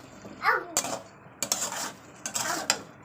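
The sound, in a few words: stirring spiced food in a pan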